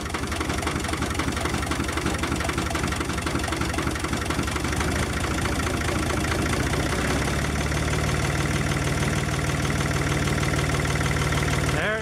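Long tractor engine running steadily then settling to idle, a loud continuous rumbling drone with a rhythmic knocking pulse, close to the microphone and with no talk over it.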